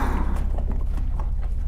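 A pale horse's hooves clip-clop in a steady walking rhythm over a deep, rumbling low drone, the strikes moderately loud and evenly spaced, with no talking.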